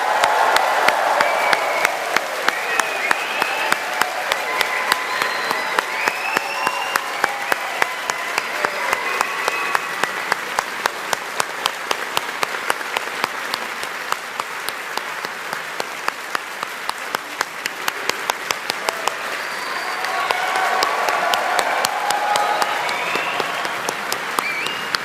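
At a 2024 university graduation ceremony for maths and statistics, naval architecture and ocean engineering graduates, a large hall audience gives long, sustained applause. Dense clapping continues throughout with scattered cheers and whistles.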